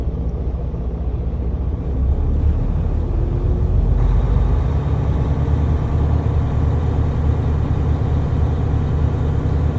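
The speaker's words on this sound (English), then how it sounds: "I'm gonna rev my engine between 10 to 13 RPMs." Diesel engine of an air-brake truck idling and then revving up, a steady loud low rumble that rises in level partway through and holds.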